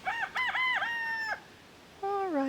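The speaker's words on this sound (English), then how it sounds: "Hello, chickens." Backyard chickens in a garden, a rooster crowing loudly and close with a long drawn-out call, followed by another rising crow after a short pause, no talking.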